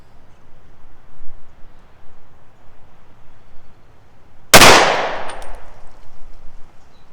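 A .38 Super pistol fires a single handloaded round, a sharp, loud crack that rings off quickly after several seconds of near quiet, followed by a faint low background.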